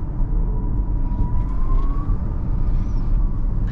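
Inside a 2023 Genesis GV60 electric SUV, the artificial E motor drive sound is a thin tone that rises slowly in pitch over a loud, steady low road rumble, with no voices.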